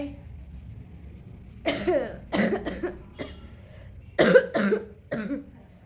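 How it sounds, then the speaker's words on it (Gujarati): A person coughs in several harsh bursts, a cluster early on and another a couple of seconds later, close and fairly loud over a quiet room. "અહીંયા ઉધરસ 15-20 દિવસથી ઘર કરી ગઈ છે, એ જાતી જ નથી"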